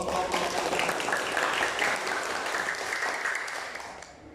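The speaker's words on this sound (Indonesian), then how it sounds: "Beri aplaus." Classroom applause follows a group presentation during a teaching practice session: a burst of clapping from a small group that holds steady for a few seconds and then tapers off.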